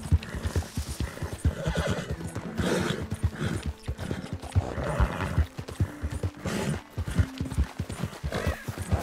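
Hooves clip-clopping in a steady trot with a horse neighing and snorting in Red Dead Redemption 2's snowy winter map, the footfalls rhythmic and fairly close throughout.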